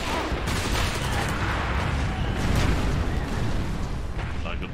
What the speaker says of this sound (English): My position is under fire.